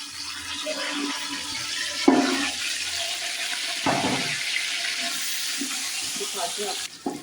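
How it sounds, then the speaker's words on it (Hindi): Marinated meat (gosht) dropped into a hot pan of browned onions for chicken biryani sizzles steadily and loudly up close, a continuous hiss with a few bursts of louder crackle as pieces land. "ये मैं गोश्त डाल रही हूँ जो मैंने मैरिनेट किया था"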